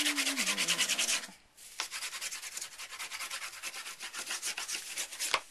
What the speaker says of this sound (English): Turn it over and burnish, burnish, burnish, burnish.